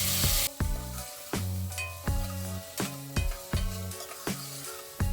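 Tomatoes fry with ginger and garlic in oil for a mutton curry, a close, bright sizzle that opens loud and then breaks into rhythmic bursts as a spoon stirs and scrapes the pan about once a second.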